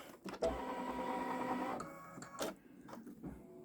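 A Babylock Solaris embroidery machine stitching an edge-to-edge quilting design runs with a steady mechanical whir and rapid needle chatter, close and fairly quiet, with a couple of clicks and knocks near the end.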